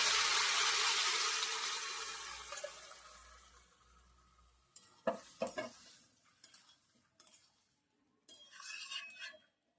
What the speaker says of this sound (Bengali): তলে এইরকম করে এটা ভেজে নিতে হবে যাতে তলে না লাগে